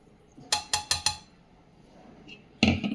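Coconut and garlic dropped into a steel mixer jar for chutney, four quick hard clinks in a row near the mic, then a quiet pause and one more louder clatter at the end.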